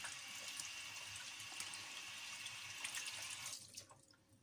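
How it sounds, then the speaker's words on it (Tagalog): Tap water runs steadily while hands are washed, a continuous close splashing that stops abruptly near the end, leaving quiet drips. "naghugas na ako ng aking kamay"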